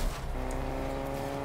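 A car driven in the video game Fortnite gives a steady engine drone with low harmonic hum, continuous and moderately loud, with no voices.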